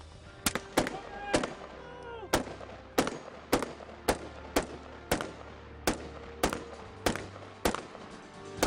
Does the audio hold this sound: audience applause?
no